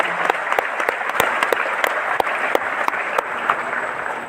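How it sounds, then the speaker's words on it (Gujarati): An audience claps for children's stage performances at a BAPS gathering. Dense, sustained applause runs throughout, with sharp individual claps standing out over a steady wash, and no talk. "એવા બધા તમામ પાર્ટિસિપન્ટને પણ આપણે તાળીઓથી વધાવીએ છીએ."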